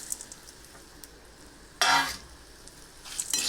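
Roasted mango seeds coated in turmeric are stirred in a pan, with a quiet sizzle broken by two bursts of scraping and rattling as the spoon moves them.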